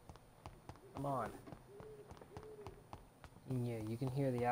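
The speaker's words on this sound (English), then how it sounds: "you can hear the owl" Owl hooting in the dark night ambience of the video game Vampyr, a few soft, low hoots rising out of quiet background sound before a louder tonal passage that could also be game speech or music.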